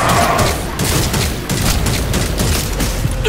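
Dense gunfire in the vampire shooter Redfall, rapid loud bursts of shots and booming impacts rolling continuously without a break, with no voices over it.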